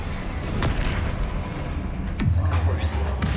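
A Bombarda blast spell in Hogwarts Legacy on PC sounds as a loud booming burst with a falling rumble, heard over dense game noise and battle effects, with a voice shouting during the fight.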